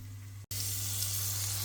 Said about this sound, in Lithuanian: Mėsytė jau kepa.